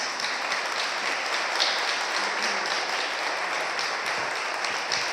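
Audience applause greeting the speaker at an art masterclass, a steady wash of many hands clapping at moderate loudness, heard from a distance across the room.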